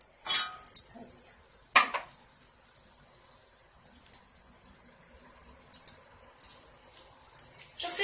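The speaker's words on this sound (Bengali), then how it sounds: "এখন আমি এটাকে নামিয়ে নেবো বাটিতে।" A cooked prawn and ash gourd curry is moved from a pan to a bowl. Sharp metallic clinks and scrapes of a spoon against cookware come at irregular intervals, some loud and close, others faint, over a quiet background.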